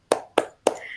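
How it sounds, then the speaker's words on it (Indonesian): Parents at a PAUD parenting session do the rhythmic tepuk semangat clap, three sharp, close hand claps evenly spaced with short gaps between them. "Tepuk semangat."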